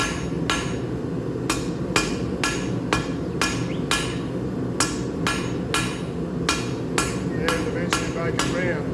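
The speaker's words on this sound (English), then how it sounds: "Make sure that every now and then you just rotate it a bit so that you're getting it evenly hammered out." Recycled sheet metal is hammered into a bird bath, a steady series of sharp metallic hammer blows about once or twice a second, close and loud over a dense background rumble.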